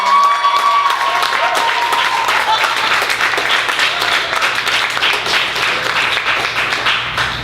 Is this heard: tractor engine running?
no